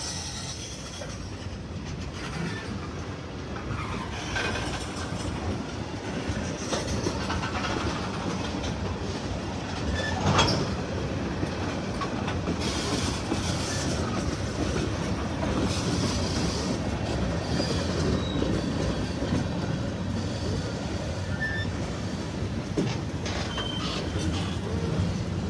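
A freight train rolls past on the Henderson Subdivision in Indiana or western Kentucky, a steady, loud rumble of railcars with rhythmic wheel clatter and occasional squeal running through the whole passage, with no talk.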